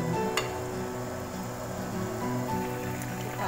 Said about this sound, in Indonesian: Airnya sudah mendidih ya teman-teman.